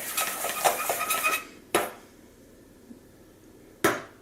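A whisk rattles rapidly against a bowl while mixing a powdered sugar and cocoa glaze for mint donuts, followed by two sharp metallic taps with quiet gaps between.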